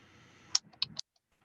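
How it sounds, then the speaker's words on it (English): A few quick keyboard key clicks, close and crisp, in a brief irregular burst over low room hiss, then quiet. "I'm going to go ahead and start typing."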